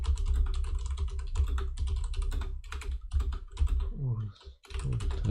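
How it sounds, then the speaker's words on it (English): Fingers type rapidly on a computer keyboard, a close, busy stream of irregular clicks with short pauses, and a brief vocal sound breaks in near the end. "so I'll have to type it out"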